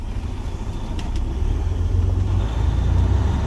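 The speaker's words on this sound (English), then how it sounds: "I'm going to pull it straight forward about 10 feet, come to a nice stop" A truck pulls straight forward about ten feet during a pre-trip brake test, its engine giving a steady low rumble that swells slightly as it accelerates. The sound is close, with no talking.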